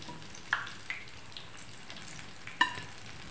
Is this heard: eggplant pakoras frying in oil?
yes